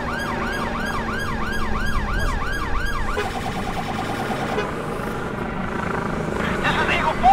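A police helicopter hovers overhead in GTA 5, its steady rotor drone running beneath a wailing emergency siren that sweeps up and down before fading into road traffic and radio chatter.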